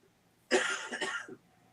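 A single close cough, a short harsh burst with a throaty rasp, in an otherwise quiet room.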